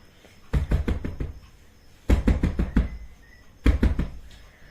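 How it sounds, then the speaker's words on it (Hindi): Someone bangs forcefully on a door in three separate rapid volleys of heavy, close knocks, each a quick run of four to six thuds with short pauses in between. "उसने पूरी शिद्दत से दरवाजा धड़धड़ाया।"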